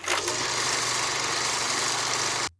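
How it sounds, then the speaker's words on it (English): An old movie projector whirs and rattles steadily at close range, a dense mechanical drone that runs unbroken and then cuts off abruptly near the end. "old movie projector"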